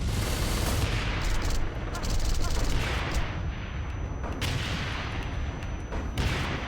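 Heavy, continuous gunfire and explosions from a grenade launcher and other weapons fill a combat scene in the video game Wanted: Dead, loud and dense with barely a break in the blasts.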